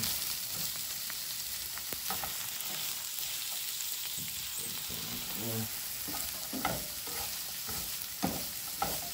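Vegetables for teriyaki chicken and broccoli are stirred in a hot pan, with a constant frying sizzle under repeated soft scraping and clattering strokes spread across the whole stretch, close and moderately loud with no voices.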